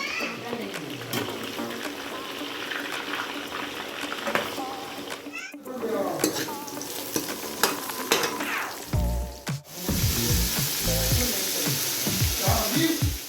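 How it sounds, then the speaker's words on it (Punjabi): Cauliflower and onions fry in a pan with a steady crackling sizzle, interrupted by stirring clatter and brief pauses, while voices talk over the cooking throughout. "ਗੋਭੀ ਗੰਡੇ ਪਿਆ ਫਰਾਈ"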